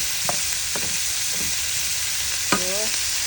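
Onions sizzle steadily in a hot pan while pinakbet is cooked, a continuous hiss with a few soft scraping stirs and clinks from a utensil.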